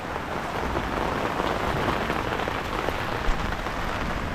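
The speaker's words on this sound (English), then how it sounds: "I need to come out of this rain." Heavy rain pours down on a backyard garden in Australia, a dense, steady hiss of drops hitting surfaces that continues evenly throughout, close and loud, with no voices.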